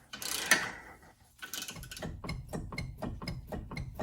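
Repeated ratcheting clicks as a 14 mm wrench works loose the sway bar end links on a Subaru Outback, a rapid even series of sharp metallic ticks after an earlier rough burst, close by with no talk.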